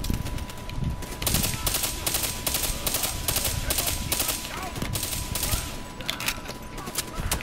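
Gunfire in the video game Call of Duty Black Ops 3: rapid automatic bursts crackle almost without pause over a busy, loud battle din, and a voice can be heard faintly in places.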